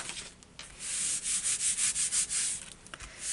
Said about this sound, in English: you can see I'm just rubbing over all the time to disperse that glue